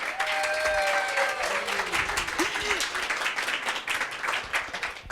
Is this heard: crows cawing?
no